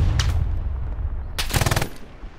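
Gunfire crackles in a World War II battle in Hell Let Loose, with a short burst early and a louder rapid automatic volley about halfway through, over a low rumbling background.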